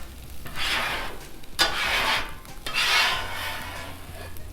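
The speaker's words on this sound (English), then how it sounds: "Just gonna scrape a little spot right here." A metal spatula scraping across a Blackstone flat-top griddle, with three loud rasping strokes, each with a sharp onset and a drawn-out grinding scrape, heard close up and alone.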